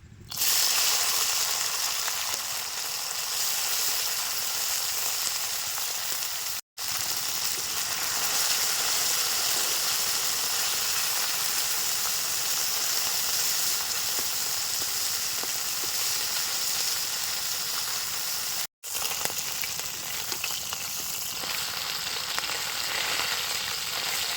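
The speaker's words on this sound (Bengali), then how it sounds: "আর একটু সর্ষের তেল দিচ্ছি এবারে মাছগুলো ভাজে নেবো" Chela (gang chela) fish frying in mustard oil in a wok, a steady loud sizzle and crackle running continuously with no talk, briefly cut twice.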